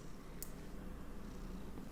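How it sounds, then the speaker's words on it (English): A pet cat purring steadily and close, a soft continuous low rumble throughout with a brief faint click early on. "I don't know if you can hear her. She's purring so loudly."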